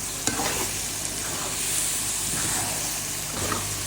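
Carrot halwa with chopped almonds being stirred in a pan, a soft continuous scraping and light sizzle with a few louder scrapes, close and steady, no voices.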